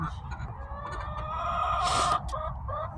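Backyard hens cluck in a close, chattering run, rising to a brief loud squawk near the end before settling back into softer clucks.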